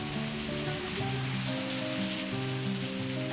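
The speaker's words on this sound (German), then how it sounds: "es fing heftig an zu regnen" Heavy rain pours down in the monsoon season amid thick fog, heard as a dense, steady hiss with constant loudness throughout, beneath sustained tonal music.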